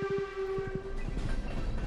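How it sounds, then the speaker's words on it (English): A regular train passes in the video game Stardew Valley, with a sustained whistle tone and a rhythmic rumble of the wagons rolling by, loud and close with no talking. "It is a regular train."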